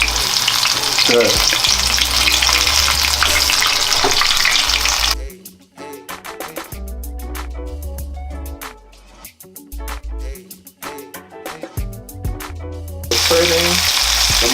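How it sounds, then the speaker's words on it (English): Battered vegan oyster mushrooms frying in hot oil in a pot, a loud, steady sizzle that drops away briefly in the middle as the pieces are stirred and spread, with a short spoken word over it. "Now, we're gonna fry our oyster fried mushrooms."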